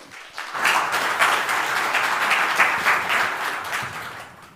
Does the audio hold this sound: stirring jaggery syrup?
no